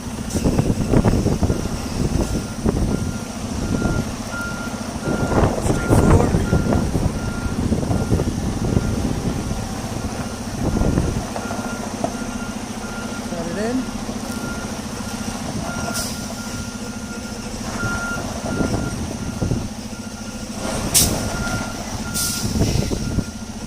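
A truck backs up a trailer, its reversing beeper pulsing steadily under a low diesel rumble, with faint hiss and clanks of air brakes now and then; no one speaks.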